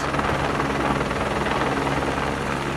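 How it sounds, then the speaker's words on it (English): A helicopter in a nosedive gives a loud, steady rotor and engine roar that holds close and unbroken for the whole stretch, with no voices. "This helicopter doing a nosedive."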